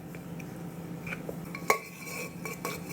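A spoon stirring a block of palm sugar into hot water in a small bowl, with light scraping and a few soft clinks of metal against the dish, one sharper tap standing out, close and quiet.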